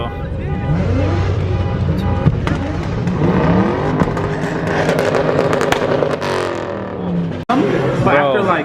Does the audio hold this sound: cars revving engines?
yes